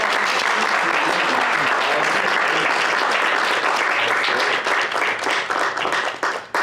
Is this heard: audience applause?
yes